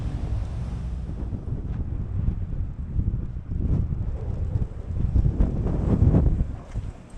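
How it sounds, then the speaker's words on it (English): Wind storm blasting sand across a desert mesa, gusts buffeting the microphone in a rough, rumbling roar that swells and eases repeatedly, with no voices. "We just got a storm."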